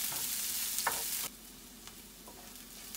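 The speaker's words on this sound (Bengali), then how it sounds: "এবার পেঁয়াজটা আমি একটু লাল লাল করে ভেজে নেব" Chopped onion sizzling in oil with cumin and bay leaf for ghugni, a hiss that drops abruptly to a quieter fry with a few faint stirring clicks.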